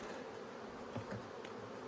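Honeybees buzz around an opened hive during a split, a soft, steady hum close by with a few louder passes of individual bees and no talk.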